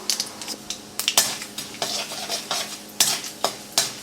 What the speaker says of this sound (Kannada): ಸಾಸಿವೆ, ಈ ಬೇಳೆಗಳು ಹಾಕಿ ಈ ಬೇಳೆಗಳು ಕಂದು ಬಣ್ಣ ಬರೋವರೆಗೆ ಹುರಿಬೇಕು